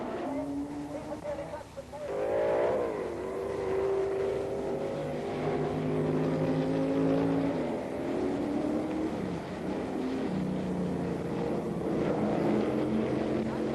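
Racing cars at a 1970 BRSCC race meeting bunch into a traffic jam at the first corner, several engines droning and revving together in a steady, loud, continuous roar with rising and falling pitch sweeps as they pass.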